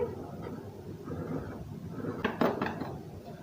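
Dry ingredients with baking powder and almonds are stirred in a bowl for an almond tea cake, giving soft continuous scraping and rustling with a few clinks of utensil on the bowl near the end.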